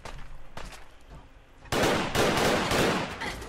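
Bursts of gunfire in Fallout 4 open with a quieter volley, then a loud sustained stretch of rapid automatic shots from about the midpoint onward, with no talking.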